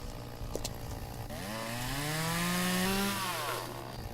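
In-game chainsaw from the farming simulation Farmer's Dynasty, idling then revving up into a loud rising whine as it bites into wood, holding a high buzzing pitch before dropping back to idle.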